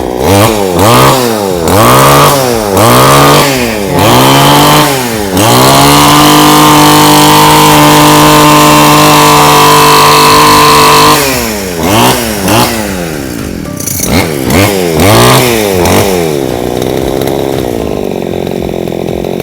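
A Tosaka RBC-411U two-stroke brush cutter with a muffled exhaust, revving hard in repeated quick bursts, then holding a long high scream before more throttle blips and settling to idle, loud and close.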